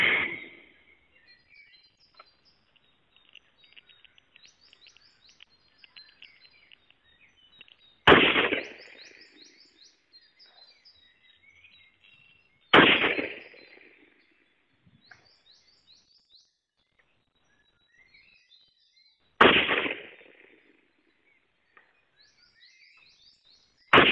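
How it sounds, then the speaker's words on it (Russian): Saiga-MK-03 rifle fired at a 500-metre target: sharp loud reports spaced several seconds apart, each ringing out with a decaying echo, with faint birdsong between shots and no talk. "Пять выстрелов сделали."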